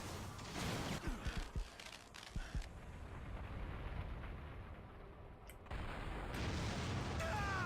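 Rocket launcher fire and explosions in an action video game, a run of heavy booms and bursts over a steady roar of battle, with a fresh loud blast near the end.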